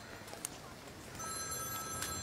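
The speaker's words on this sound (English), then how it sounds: "You're ringing, so you must be Tashi." A telephone rings faintly in a comedy film scene set in Delhi, a short ring standing out over quiet room tone.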